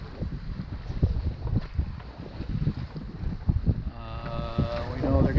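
Wind on a sailboat on Lake Michigan in a breeze of 17 to 20 knots, a steady, close rushing roar with gusty surges and mic buffeting. A voice briefly rises over it near the end.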